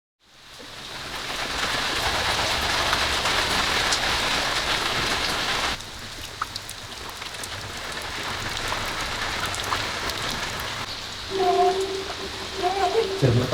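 Heavy rain pours down steadily onto a leaking shack, a dense loud hiss that drops somewhat partway through before brief clatters and sounds near the end.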